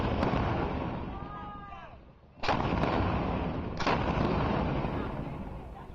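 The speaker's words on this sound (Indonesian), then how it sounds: "Seperti inilah rekaman amatir aktivitas warga saat membunyikan meriam karbit" Carbide cannons fired by residents in South Kalimantan boom in an amateur recording, two heavy blasts a little over a second apart over a dense rumbling outdoor background, with people talking nearby.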